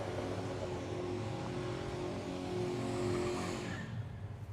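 At Willowbank Raceway during a drag challenge, a Tirana drag car does a burnout to heat its tyres, a loud sustained engine roar with tyre squeal that rises, then fades away.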